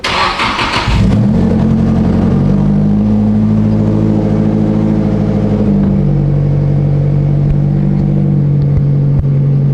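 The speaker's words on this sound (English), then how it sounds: "let's get a cold start for you boys" A Nissan S15 cranks for about a second, then catches on a cold start and settles into a loud, steady, rumbling high idle that holds close and constant with a slight dip partway through, with no voices over it.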